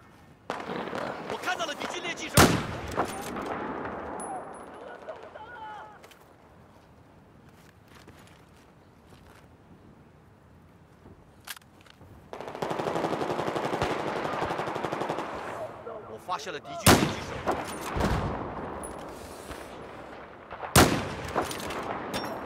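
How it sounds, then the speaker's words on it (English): Gunfire in the video game Battlefield 4: sharp broadband shots and bursts crack repeatedly, several loud and close, between stretches of rumbling battle noise and a dense sustained firefight in the middle, with a voice talking at times underneath. "Someone up there is shooting close to me."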